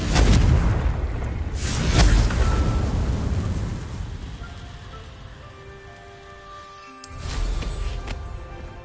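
Blast from the Confringo spell in a video game: a loud, rumbling fiery explosion with crackling debris that slowly fades, then a second thump near the end as musical tones drift in.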